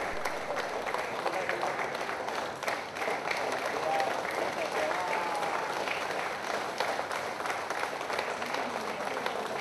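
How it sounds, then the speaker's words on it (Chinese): Officials, Government House staff and police officers applaud to send off Donald Tsang as he leaves Government House, steady crowd clapping with occasional cheers and voices mixed in throughout. "財政司司長曾俊華以及多名禮賓府的職員和駐守禮賓府的警員拍手歡送曾蔭權"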